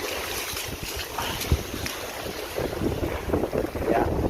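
Strong wind of about 30 knots buffets a Hobie Cat sailboat at a beach in Phuket, heavy gusting rumble and microphone wind noise with faint water sounds, no talk.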